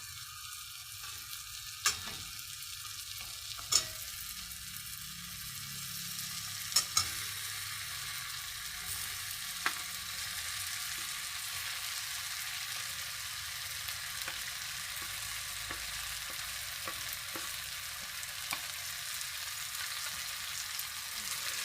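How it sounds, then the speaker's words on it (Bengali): Fried potatoes and cauliflower stirred into a frying whole-ground spice paste for a rui fish curry: a long, even hiss of frying with sparse sharp clicks of a spatula against the pan, no talking. "এখন আমি ভেজে রাখা আলু আর ফুলকপিগুলো দিয়ে দেবো"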